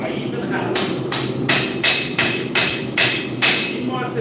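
Seven or eight sharp hammer blows on steel in a slow, steady rhythm, ringing close and loud over a low shop hum while a gambrel is being built.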